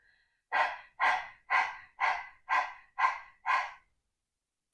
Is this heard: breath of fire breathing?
yes